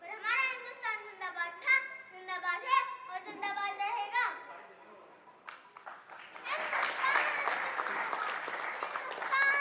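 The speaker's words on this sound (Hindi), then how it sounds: "जोरदार तालियों से अभिनंदन होंगे।" At an Independence Day event, a child sings for the first few seconds, then after a short pause an audience bursts into steady, moderately loud applause that continues to the end.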